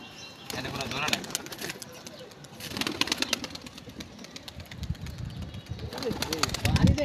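Domestic pigeons coo in low, repeated throaty bursts at a pigeon release outdoors, close and moderately loud, with wing flutters and background voices mixed in.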